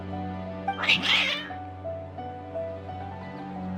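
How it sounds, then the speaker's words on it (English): Cats in the Genshin Impact game meow in an agitated, caterwauling cry, a single loud drawn-out yowl heard close over a steady sustained musical drone, with faint softer mews trailing afterward. "Your cats seem pretty worked up."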